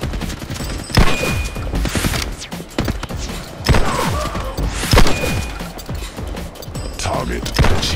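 Gunfire in the shooter video game The Club on the prison cells level, with repeated sharp shots and impacts scattered through the stretch over game music and sound effects, with a brief voice line.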